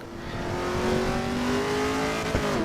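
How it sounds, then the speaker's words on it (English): A racing car's engine in the video game Assetto Corsa EVO holds a steady, close harmonic drone that rises slightly in pitch, with a brief knock near the end and no talk over it. "It's got a good engine sound, hasn't it?"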